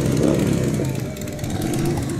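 Motorcycles in a Veterans Day parade in Surprise rev their engines up close, a loud rumbling drone with rising and falling revs that holds steady across the moment.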